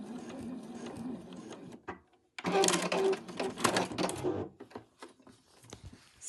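A sewing machine back stitching the edge of a fabric stocking runs in quick close mechanical bursts, with a brief pause, then a longer run that tapers into short stops.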